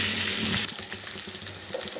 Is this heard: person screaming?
no